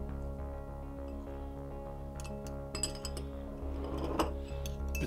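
Spoons clinking against glass while coffee cups are skimmed and the spoons rinsed during an espresso blend cupping, a few light separate chinks over a constant low mechanical hum, with no talking.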